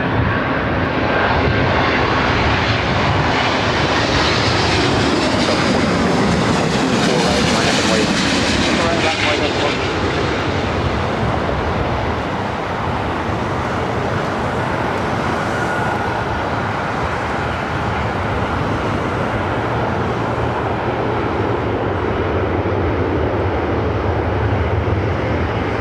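A Delta Boeing 737-800 airliner taking off from LAX on the north side, a broad continuous roar of jet engines that swells and stays loud throughout, with radio chatter faintly underneath.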